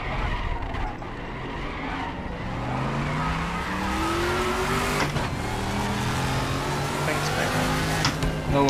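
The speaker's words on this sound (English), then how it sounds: "so you can hear just the ridiculousness of the V8 engine in this car" Group C race car with a V8 engine accelerating hard in a racing video game at Norisring, with a loud rising engine note and tire squeal over continuous track noise. A voice talks quietly over the engine.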